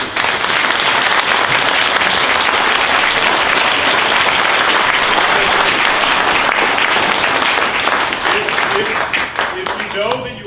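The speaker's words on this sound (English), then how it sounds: "Let's have a round of applause both for all of you and for our speakers." An audience at an Idaho ballot initiative event gives loud, sustained applause for the speakers. Dense clapping fills the whole stretch, with scattered voices and a few whoops toward the end.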